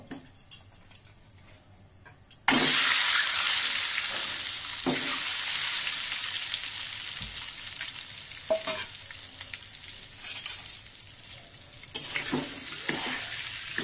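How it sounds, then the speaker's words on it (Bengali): An egg dropped into hot oil with turmeric in a kadai bursts into a loud sudden sizzle that stays strong and slowly fades, with occasional clicks and taps of a spatula. "এখন তেলে একটু হলুদ দিয়ে ডিমটা ভেজে নেব।"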